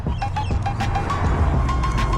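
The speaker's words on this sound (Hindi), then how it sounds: "उफ, इतने कोकाटूस की आवाज़ें आ रही हैं" Repeated short cockatoo calls ring out over a steady low rumble, like an engine idling, with several cockatoos calling at once in the background.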